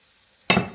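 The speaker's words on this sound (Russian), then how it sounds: "Я беру один половничек и в центр сковородки раскаленной выливаю" After a moment of near silence, pancake batter is ladled into the center of a hot pan over medium heat and a sharp sizzle bursts out, then fades slightly.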